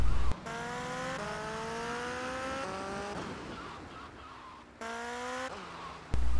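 Revving engine of a motorcycle ridden in GTA Vice City, steady tone climbing through several gears with rising pitch sweeps and short shift breaks, loud and close with no talking.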